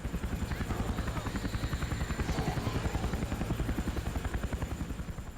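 Helicopter in the Roblox video game Those Who Remain, a loud, steady rotor thump with rapid regular chopping pulses, close and continuous throughout.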